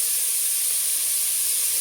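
Onions frying in a pan for jackfruit pulao, a steady bright hiss of sizzling oil that holds constant and close with no pauses.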